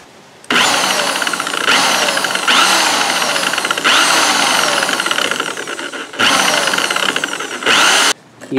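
A drill-powered homemade thickness drum sander runs in loud, close bursts, its steady whirring grind starting and stopping several times with brief pauses between runs.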